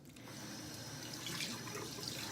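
Tap water runs steadily into a sink while someone rinses off their face during a night-time skincare routine, a soft continuous splash at moderate distance.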